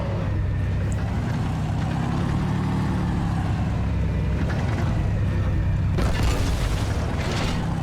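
A tank's main cannon fires in Halo 2, booming over a constant heavy engine rumble, with a sharper blast near the end.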